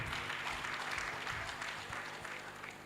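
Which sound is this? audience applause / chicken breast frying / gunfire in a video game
audience applause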